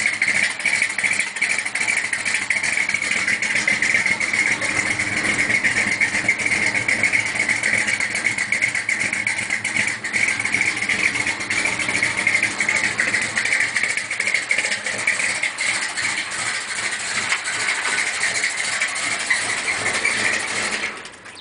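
A 1972 Chevy truck with a 400 small-block V8 idles low and steady, a constant close-up rumble with no other sounds over it.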